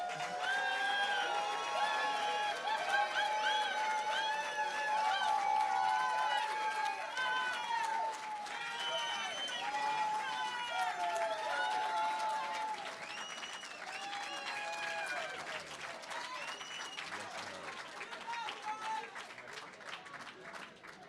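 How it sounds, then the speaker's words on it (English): An audience at a 2018 political debate in Trenton breaks into sustained clapping mixed with whoops and cheering voices, a dense, continuous wall of applause lasting around twenty seconds and easing slightly toward the end. "may we have a round of applause for Brother George Michelle."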